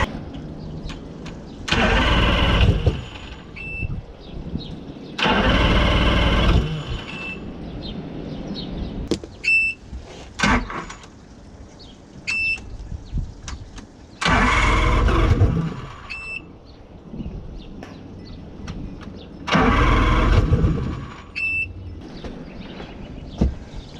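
The outboard engine of a SeaSwirl Fish&Ski boat, on its first start of the season, cranks and catches in repeated loud bursts, several start attempts separated by pauses filled with faint rattles and a quieter idle.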